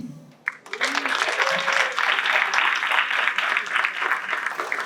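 After a brief voice, a high school audience breaks into warm applause for a panel of speakers, many hands clapping steadily and fairly loud, with scattered voices beneath.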